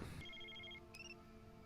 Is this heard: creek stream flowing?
no